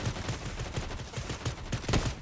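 Pistol fire in the video game Fortnite rings out as a rapid, uneven string of sharp shots at fairly close range, with a few bursts landing close together.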